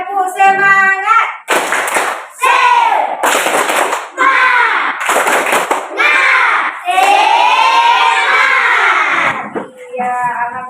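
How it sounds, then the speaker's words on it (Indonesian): A standing class of teacher trainees performs a rhythmic group clapping routine, bursts of sharp unison claps alternating with loud chanted and shouted voices in a patterned call-and-response close to the listener. "Kita tepuk semangat."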